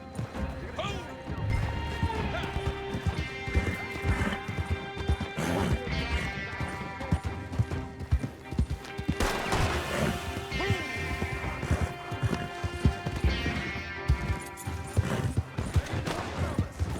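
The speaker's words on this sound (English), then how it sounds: "me están siguiendo en caballo mientras me disparan" Horse hooves pound alongside bursts of gunfire during a horseback chase in Red Dead Redemption 2 Online, loud and continuous with crashing hits layered over game music and effects.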